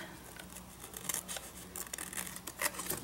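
Scissors snipping and trimming paper pages of an altered book journal at a craft table, a quiet series of close, soft cuts and crinkles with faint rustling between them.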